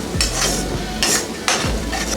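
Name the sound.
garlic and onion frying in oil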